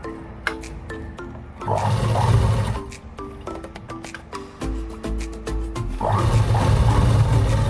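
A sewing machine stitches a dress neckline in quick rapid bursts of rattling needle clicks, with short pauses between runs and a heavier rumbling whir underneath during the longer stretches of stitching.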